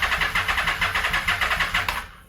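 A Yamaha VMAX motorcycle with freshly cleaned carburetors cranks on its starter without catching, giving about nine quick, even whirring pulses close by before cutting off.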